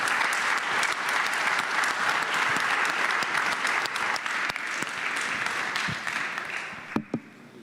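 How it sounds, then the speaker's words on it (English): A conference audience at the 2025 Budapest Global Dialogue applauds panelists with full, sustained clapping that thins out toward the end, leaving a few final claps. "the audience, join me in applauding our panelists"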